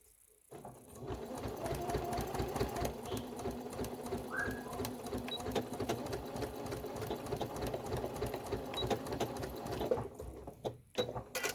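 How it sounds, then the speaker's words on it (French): A sewing machine stitches fabric for a furoshiki gift wrap, running in a fast, steady mechanical rattle close by for about ten seconds before slowing and stopping. "on vient de coudre notre furoshiki en devenir"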